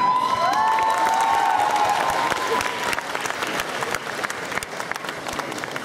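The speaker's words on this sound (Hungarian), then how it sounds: "Úgyhogy nagy tapsot Margitnak!" Loud applause with some cheering from a convention crowd at a cosplay performance contest, steady clapping that thins slightly toward the end while a few tonal sounds ring over it.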